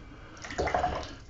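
A watercolour brush swished and rinsed in a jar of clean water, a brief soft splashing burst rising in the middle and fading out, close and quiet, with no talk.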